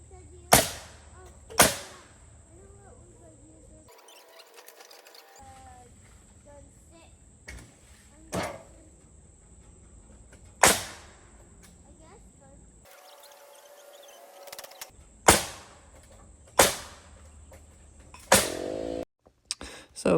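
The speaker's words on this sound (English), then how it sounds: "So don't forget that step when using the nail gun" Nail gun driving nails into wood during a tiny cabin build, heard as sharp, loud single bangs at irregular intervals, about ten in all, with quieter gaps and brief bursts of compressor or tool noise between them.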